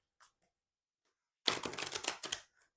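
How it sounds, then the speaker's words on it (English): Tarot cards are shuffled in a quick, dense burst of papery riffling and slapping for about a second, close to the listener, with a couple of faint soft taps just before it. "So I'm just going to shuffle these cards."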